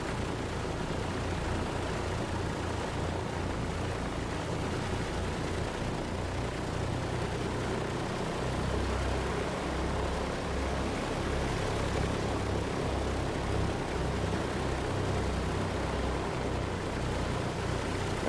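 A Douglas DC-3 propeller plane taxis in Microsoft Flight Simulator 2020, its engines giving a steady, continuous drone with a low throbbing hum that swells slightly partway through, alone with no talk.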